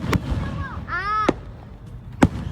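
Fourth of July fireworks go off in sharp pops, with two loud cracks and a whistling rising tone between them, fairly close in an outdoor setting.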